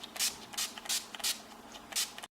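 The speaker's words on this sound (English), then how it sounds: "my NYX Matte Finish finishing spray." NYX Matte Finish setting spray is misted in five short hissing bursts at an uneven rhythm, faint and close, with no talk.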